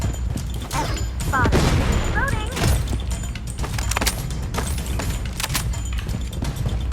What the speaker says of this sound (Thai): ปาระเบิด